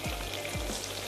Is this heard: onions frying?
yes